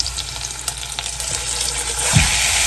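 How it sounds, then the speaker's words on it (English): A Boston butt sears in hot olive oil with a constant bright sizzle and crackle, plus a brief dull bump partway through. "Let's turn it over this side now. Just let it put a sear on it."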